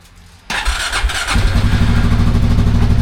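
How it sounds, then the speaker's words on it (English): A Can-Am quad ATV engine cranks and fires after a short quiet moment, then settles into a loud, steady run that rises in revs, close by with no talking. "You really want to make sure that the quad starts, runs up a little bit once you undo those plugs"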